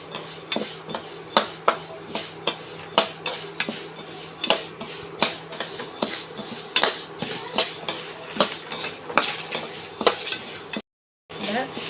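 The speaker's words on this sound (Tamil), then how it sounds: "உளுந்து மனம் வரும் அது வரைக்கும் வறுத்துக்கோங்க" Black urad dal dry-roasts in a pan as a metal spoon scrapes and taps it in a brisk, regular rhythm, each stroke a sharp clink over a faint rustle of the dry lentils, close and loud.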